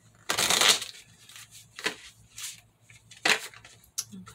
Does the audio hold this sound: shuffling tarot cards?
yes